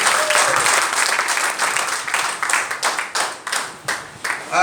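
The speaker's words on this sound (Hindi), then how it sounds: "एक बार जोरदार तालियां होनी चाहिए सबके लिए," Loud applause from a seminar audience, many hands clapping in a dense wash that thins toward the end into separate, rhythmic claps, close and without voices.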